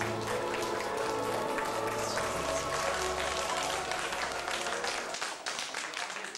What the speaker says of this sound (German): Dankeschön, dein Applaus.